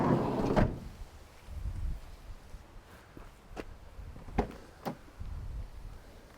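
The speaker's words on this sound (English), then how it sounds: "Twin rear doors, just a little catch down there, opens like so, 90 degrees." Twin rear doors on a Volkswagen Caddy 1.6 TDI C20 Startline panel van swing open, with a few sharp latch clicks and metallic knocks spaced apart over faint low rumble.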